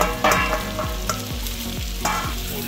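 Pancit canton noodles stirred while frying in a pan, a strong continuous sizzle broken by repeated scraping strokes of the spatula, close and loud with no talking.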